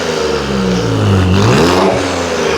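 A Nissan 400Z with a loud aftermarket exhaust gives a single sharp throttle blip, the engine note rising and falling quickly over a steady idle rumble, close and loud.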